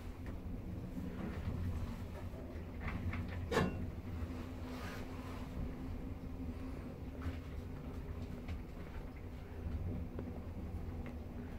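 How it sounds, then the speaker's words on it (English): A 2004 Stannah passenger lift in a shop travels downward, giving a steady low mechanical hum and rumble that holds throughout, with a single brief higher-pitched squeak or whine partway through. "Lift going down."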